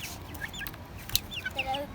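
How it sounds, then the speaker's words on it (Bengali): Several tiger chickens cluck close by in short, quick bursts over two seconds, with soft background noise behind them. "কয়টা টাইগার মুরগি আনছো?"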